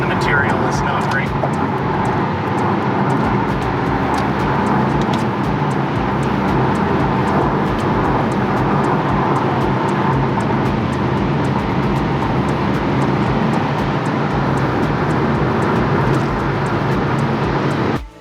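Steady road and tire roar from inside a 2013 Scion tC driving on a rough, rutted, bumpy stretch of highway under construction, a loud continuous rumble and hiss with no letup.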